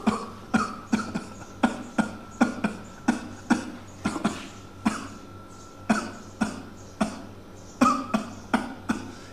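A long run of regular, forceful imitated coughs, roughly one or two per second, close and loud, with no talking.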